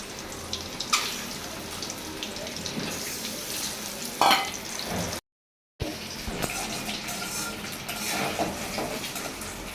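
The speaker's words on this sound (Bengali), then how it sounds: "ডিমগুলো ভাজা হয়ে গেছে" A steady sizzling hiss of eggs frying in a pan, with a couple of sharp clinks and a brief moment of silence midway.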